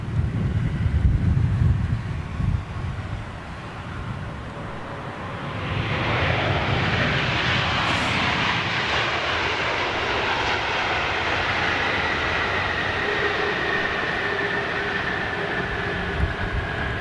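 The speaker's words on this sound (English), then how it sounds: "Oh, she's not in flight yet. Okay, she's taxiing." A big jet airliner taxis on the ground, its engines rising into a loud, steady whine and roar that holds on without talk.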